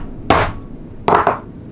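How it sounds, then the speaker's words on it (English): Two sharp, loud hammer blows drive a ceramic bearing into a tight-fitting seat, the strikes close by and about three-quarters of a second apart. "I need to hammer this into there."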